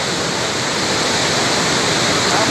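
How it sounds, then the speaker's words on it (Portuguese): The Cachoeira do Moquém waterfall roars in a dense, constant rush of falling water, loud and close, with no voices over it. "Vai descer um quilômetro de cachoeira."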